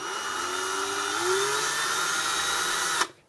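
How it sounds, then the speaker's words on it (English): A power drill bores upward at an angle into a hobby model while lights are being wired into it. The motor whines in a steady, loud, close drone, its pitch rising slightly, then cuts off abruptly near the end. "you're going to angle the drill and very carefully drill upwards towards the top of it"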